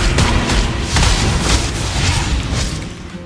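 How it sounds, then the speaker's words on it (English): A turret explosion in the Mobile Legends mobile game gives several dull booming bursts spread over a few seconds. The blasts sit over a dense, steady wash of game effects, loud and close. "Our turret has been destroyed."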